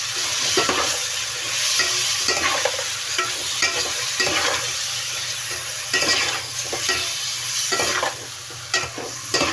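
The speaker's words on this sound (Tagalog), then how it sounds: "Tapos haluin natin ang kaunti." Chicken tinola being stirred in a cooking pot after salt goes in, a steady sizzle with repeated scraping strokes of a spoon against the pot, close and continuous with no talking.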